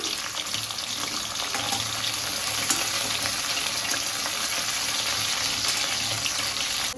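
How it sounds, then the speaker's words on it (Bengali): Steady, dense hiss and crackle of bata fish frying in hot oil, loud and continuous throughout with no voices. "দেখো মাছটা পুরো ভাজছি"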